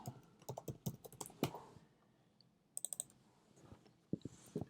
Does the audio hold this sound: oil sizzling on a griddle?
no